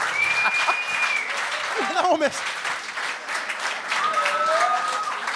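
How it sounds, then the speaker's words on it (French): An audience in a studio at a televised gong show applauds in a loud, continuous wash of clapping throughout, with people speaking over it and brief whoops. "je comprends pas pourquoi le monde applaudit"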